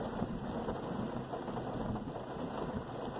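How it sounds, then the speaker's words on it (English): A low, steady rumble of distant thunder rolls under the hiss of falling rain, without pauses. "Listen, did you hear the thunder?"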